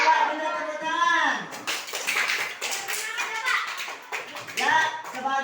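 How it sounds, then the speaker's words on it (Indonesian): Schoolchildren in an elementary classroom clap together in uneven bursts, mixed with children's voices calling out loudly between and over the claps. "Coba kita tepuk tangan."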